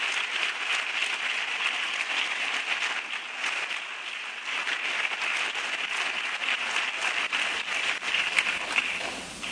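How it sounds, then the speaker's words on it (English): Sustained room applause at a Dr. Martin Luther King Jr. celebration, a thick wash of many people clapping with crisp individual claps, steady and fairly loud for nearly ten seconds with no speech. "Let's give everyone another round of applause."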